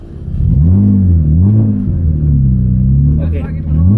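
A car engine revs at drifting school practice, sounding loud and close. Its pitch rises and falls in wavering swells for several seconds and then settles into a steady drone before surging again.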